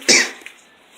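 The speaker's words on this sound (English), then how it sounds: "So sorry about my coughs" A single sharp cough bursts out close to the mic beside an EG hatch's engine bay being cleaned with degreaser, then trails off into near-silence with a faint second catch of breath.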